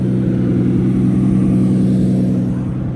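A Lamborghini Diablo engine holds a loud, steady, close mechanical drone at a constant pitch for a few seconds, heard without any talking.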